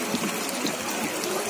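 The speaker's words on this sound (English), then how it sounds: "Now you are the source of the White Nile, the longest river in the world." Water flows at the source of the White Nile in Jinja, where the river leaves Lake Victoria, giving a steady, broad rushing wash with no talk over it.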